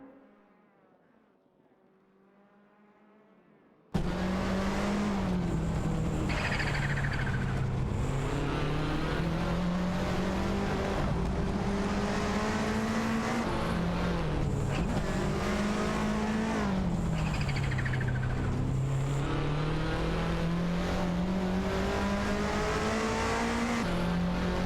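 Race cars in a video game, a Ford Sierra and a Porsche 968 Turbo, roar with steady high engine drone that rises and falls through gear changes and corners, loud and continuous after a quiet start, with no talk.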